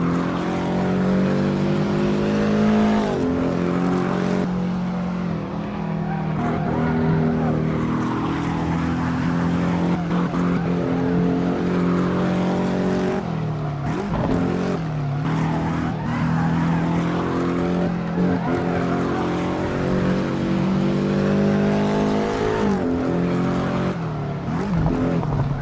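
Porsche 718 Cayman S racing in the Assetto Corsa video game, a steady, loud engine drone rising and falling through gear changes and corners, with brief tire skids and no talking.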